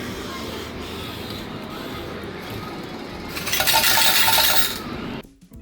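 Coins clatter out of an arcade change machine in an Akihabara game center, a bright metallic jingle of about a second over steady arcade background noise, ending in a sudden drop.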